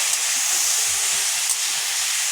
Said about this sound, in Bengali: এখানে ঝিঙে আর আলুটা ভেজে